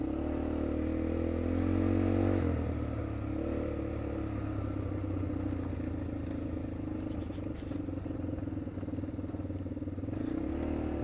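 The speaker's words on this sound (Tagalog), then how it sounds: "Uy, may motor." An ATV engine on Mount Mayon idles and rumbles steadily, fairly close, with a low droning tone that shifts slightly as it revs.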